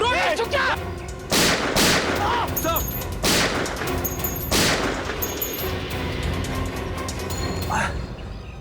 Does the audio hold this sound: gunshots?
yes